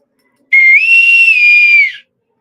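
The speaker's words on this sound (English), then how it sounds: "So this is not a single whistle. This is a musical instrument. We have 2 notes here." A single sustained blast on a two-note scout whistle, bright and close, that slides slightly upward at the start and holds a steady pitch for about a second and a half.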